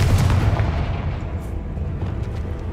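A Confringo blasting spell cast in Hogwarts Legacy, a loud, sustained booming blast with a dense low rumble that stays steady and slowly fades, heard alone without talk.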